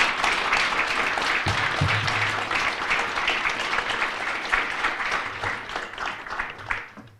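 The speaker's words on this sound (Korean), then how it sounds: "다시 한번 뜨거운 박수 부탁드립니다." Audience applause fills a hall at the launch of a Korean political policy forum endorsing presidential candidate Lee Jae-myung: dense, steady clapping from a large crowd that carries on throughout and tapers off at the end.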